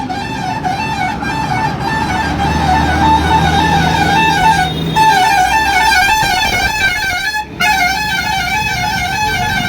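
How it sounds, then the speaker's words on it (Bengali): Vehicles sound their horns while crawling through thick morning fog in Amta town, with repeated sustained honks and toots from several cars and buses over a steady rumble of traffic. "লাইট জেলে হর্ন বাজিয়ে যাতায়াত করছে"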